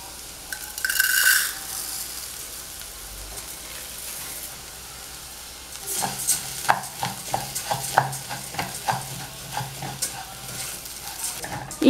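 Rice frying and being stirred in a pot with saffron: a burst of sizzle at the start, then a steady quiet fry, and from midway a run of distinct spoon scrapes and clinks against the pot, close and fairly loud.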